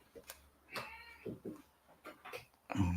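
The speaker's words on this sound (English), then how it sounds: "my cat just jumped in the room here" Faint short meows from a cat come in several bursts over low room noise, with a louder sound at the end.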